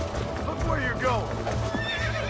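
A horse in the video game Red Dead Redemption whinnies in a couple of loud, wavering neighs with hoof clip-clop, while someone talks over it.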